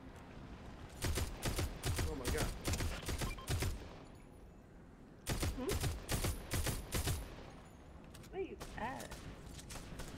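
Video game gunfire rattles out in two long volleys of rapid, loud shots, separated by a short lull and followed by a few scattered sounds.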